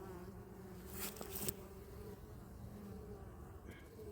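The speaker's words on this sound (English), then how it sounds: "There's a wasp down there." A wasp buzzes close by among the hives at an apiary, a steady droning hum that swells briefly into a louder pass before settling back to a continuous buzz. No one speaks.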